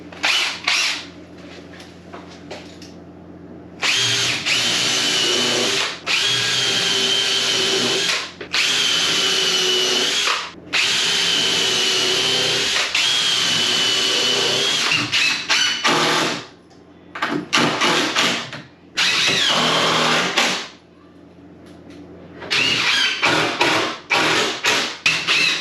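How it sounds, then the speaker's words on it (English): A power drill whines loudly in repeated long bursts with short pauses between, as 3-inch screws are driven into a door frame up close. "I'm going to pre-drill with a countersink pre-drill bit so that the screws are nice and flush"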